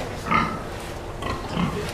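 Pigs in a pen grunt in two short, low bursts about a second apart, close and moderately loud over a faint background hum.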